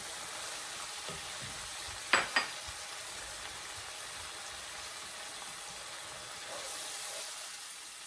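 Turmeric, chili, coriander and cumin powders fry in a pan with a faint, steady sizzling hiss, broken by a couple of sharp utensil clicks near the middle.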